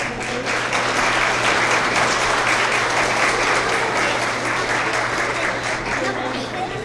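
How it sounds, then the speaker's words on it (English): School award assembly crowd for kindergarten through second grade clapping loudly and continuously, a thick even wash of applause filling the whole stretch. "Let's give them a big round of applause."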